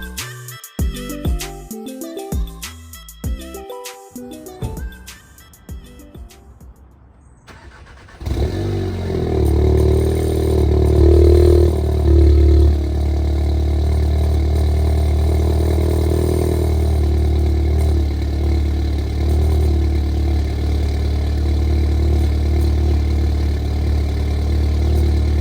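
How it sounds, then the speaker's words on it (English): A Mk7 Volkswagen Golf R with a decat downpipe catches after a few seconds of clattering on a cold start, then settles into a loud, steady, rumbling idle that carries on without pause. "the actual cold start and general sound of the car is a lot nicer"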